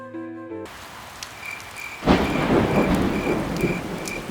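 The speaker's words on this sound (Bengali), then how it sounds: "সেই রাতে বিশাল বৃষ্টির কারণে নদীর পানি ফেপে বন্যা হয় মিলনের গ্রামের পাশের নদীর বাঁধ ভেঙে যাওয়ার" Steady heavy rain pours down with distant thunder rumbling and a sharp crack about halfway, the downpour continuing loudly afterward.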